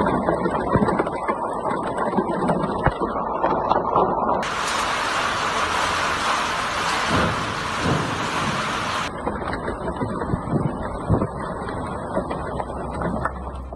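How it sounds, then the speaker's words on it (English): Hailstorm in Dammam, Saudi Arabia, with hailstones large enough to shatter car windshields: a dense, continuous roar of rain and hail pounding surfaces, with low rumbling thunder underneath, loud and sustained throughout. "While storms raged, Dammam endured the most ferocious hailstorm"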